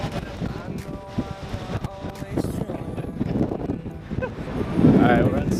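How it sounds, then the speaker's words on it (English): Strong gusting wind buffets the microphone outdoors in Las Vegas before a dust storm, rumbling and fluctuating over several seconds with a louder gust near the end; faint voices sit underneath. "it's super windy right now"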